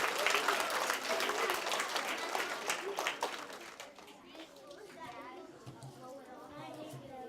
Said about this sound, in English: Why don't you give a big round of applause, by the way?